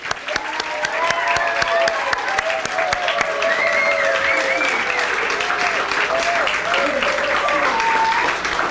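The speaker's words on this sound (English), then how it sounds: "let's give them all a hand again" Audience applause for students at a school quarterly program, steady and sustained throughout, with faint voices and music-like tones threaded underneath the clapping.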